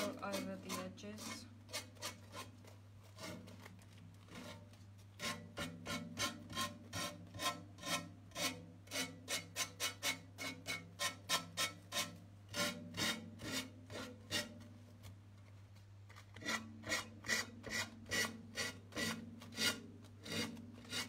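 Medium-grit abrasive sanding the edges of a mirror being altered: a long run of rapid, rhythmic back-and-forth rasping strokes, close and steady, with brief pauses between bursts under a constant low hum.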